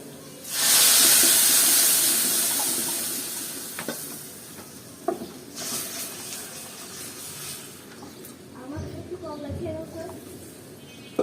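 Lentils tipped into a hot pan of fried garlic and onion set off a loud, steamy hiss that surges at once and slowly fades over several seconds, followed by quieter cooking noise with a voice talking.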